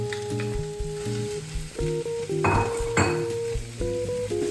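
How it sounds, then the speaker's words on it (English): Chopped carrots, onions and celery fry in hot olive oil with a continuous sizzle, while a utensil knocks and scrapes against the pan in uneven strokes and a few metallic clinks ring out close by. "We have our hot oil in here, and we're going to start putting our chopped vegetables, which is 2 cups of carrots, onions, and celery right on top"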